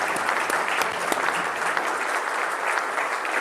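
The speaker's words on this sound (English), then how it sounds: "let's raise a warm round of applause to welcome Bindia to the Seattle" Warm, steady applause from a Rotary Club audience at a Seattle meeting, a dense wash of many hands clapping close and loud without a break for several seconds, with no talk over it.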